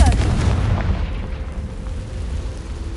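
Confringo fire spell from Hogwarts Legacy bursting into a loud, booming explosion at the start, followed by a rumbling decay and a low sustained tone, with no speech.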